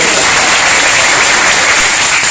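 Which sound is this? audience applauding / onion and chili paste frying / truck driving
audience applauding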